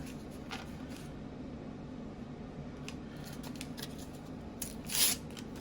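Scissors cutting a slit in a pouch, a few faint, scattered snips close by over quiet room hum, ending in one louder snip.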